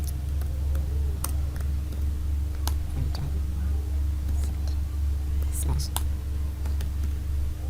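Keys click on a computer keyboard while code is typed into Notepad, in scattered soft taps under a steady low hum, with someone talking quietly over them.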